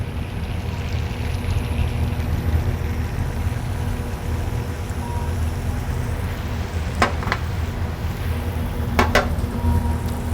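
Flounder coated in almond flour sizzles steadily in foaming melted butter in a pan, a constant loud hiss with a couple of brief clinks and no talking.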